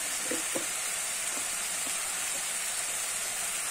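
Spices with turmeric and salt fry in hot oil for a Bengali dish, giving a steady, even sizzle with a few faint clicks and stirs early on. No one speaks.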